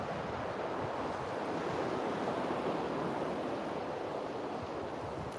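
Chilly outdoor wind blows in a steady, broad rushing roar that neither rises nor falls and continues alone without any voices.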